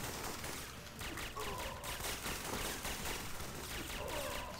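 Rapid video game gunfire in Syphon Filter, a quiet, continuous run of shots and bursts that stays low in the mix for several seconds under faint game sound.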